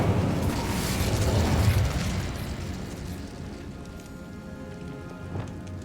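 A fire spell cast in the Hogwarts Legacy video game, heard as a loud, dense roaring burst that swells over the first two seconds, then settles into a steady crackling rush that slowly fades.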